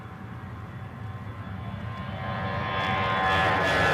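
easyJet Airbus A320 jet engines during takeoff from Newcastle airport, a distant, steady roar that swells gradually louder over several seconds.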